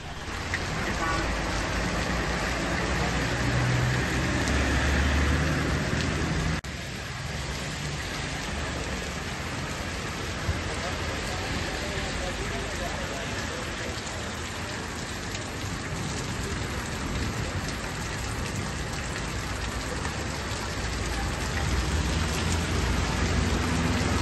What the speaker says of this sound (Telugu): హైదరాబాద్ నగరంలో పలు చోట్ల కొండపోత వర్షం కురుస్తోంది